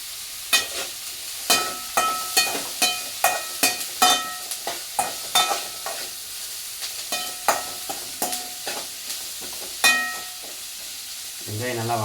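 Salted onions fry in a pan for a blood stir-fry, a constant sizzle punctuated by a quick series of sharp spatula clacks against the pan, with a brief pause near the end.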